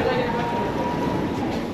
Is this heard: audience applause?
no